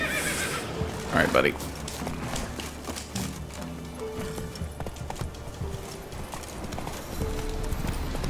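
In The Witcher 3, the horse Roach neighs and gallops with rhythmic clip-clop hoofbeats, while someone talks over the sound.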